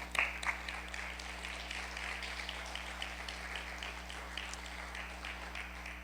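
A church congregation gives sustained applause with a steady, rhythmic clapping pulse over a constant low electrical hum in the room.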